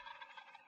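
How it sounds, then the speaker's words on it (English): Real turkeys gobble in a short played-back recording, a rapid rattling burst of several gobbles that sounds fairly distant and thin, with no talk over it. "playing our gobbles for us. They're real turkeys in there, aren't they?"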